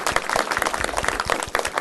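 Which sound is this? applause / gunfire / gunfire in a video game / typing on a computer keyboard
applause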